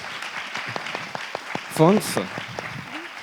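Applause for an award winner at an inbound marketing prize ceremony, with steady scattered clapping from the audience while a voice speaks over it and a brief whoop rises in the middle.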